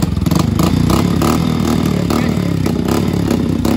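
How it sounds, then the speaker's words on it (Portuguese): A motorcycle engine runs loud and close for a few seconds with a rough, steady drone and rising revs. It is heard alone, with no talking. "Ixi, já engasou a moto."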